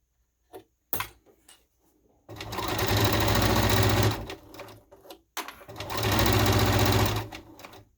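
A sewing machine stitches a scrub hat in two steady, fairly loud runs of about two seconds each, separated by a pause with clicks and handling noise.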